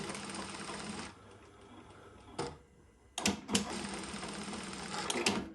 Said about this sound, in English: you can do a double tack. So what it does is forward, back, and then it'll sew